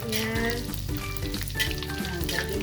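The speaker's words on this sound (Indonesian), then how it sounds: "Terus minyaknya kita semburin ke kerupuk kulitnya." Pork skin crackers sizzling as hot oil is splashed over them while frying, a dense continuous crackle and hiss close up throughout.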